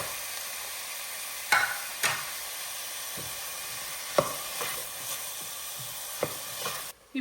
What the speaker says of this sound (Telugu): ఈ ఉల్లిపాయల ముక్కలు మగ్గేస్తాయి తొందరగా ఇలా వేసేస్తే.